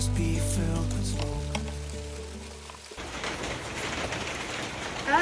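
Heavy rain falls outdoors in a garden, a dense, steady hiss of drops that takes over after a stretch of soft music and continues unbroken to the end.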